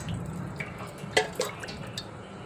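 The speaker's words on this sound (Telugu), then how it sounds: "2 టేబుల్ స్పూన్ల నూనె వేసుకోవాలి." Two tablespoons of cooking oil poured into a kadai after fried eggs are removed, giving faint, sparse liquid drips and a soft trickle over low background hum, with no talking.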